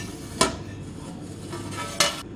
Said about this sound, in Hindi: अब मैं इसको डिश आउट करूंगी